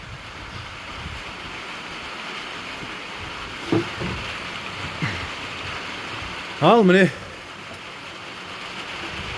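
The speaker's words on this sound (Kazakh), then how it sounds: "жаңбыр құйып жатыр, әне" Rain pouring down steadily in a village yard, a constant broad wash of falling water, with a short voice cutting in and a few brief chirps from a chicken.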